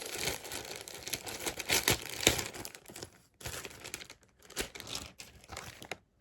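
A parcel containing false eyelashes being unwrapped, with close, crisp crinkling and tearing of plastic packaging in irregular bursts and short pauses between handfuls.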